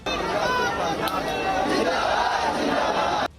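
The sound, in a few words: crowd chanting patriotic slogans at a soldier's funeral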